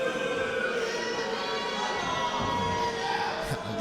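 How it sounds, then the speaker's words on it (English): A wrestling crowd reacts to the antics of Brandon Williams during a Saraya Saber match, a steady dense roar of mixed voices and shouts filling the hall throughout, loud and continuous without clear peaks. "The crowd not exactly enjoying the antics of Brandon Williams"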